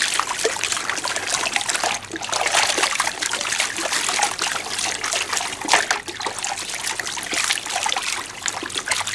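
Water sloshes and trickles steadily as crushed material from a jaw crusher is panned hard, a continuous splashing wash with irregular swirls, close by and without talk.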